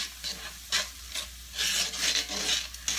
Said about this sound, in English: I am going to use my tongs again to stir that all together.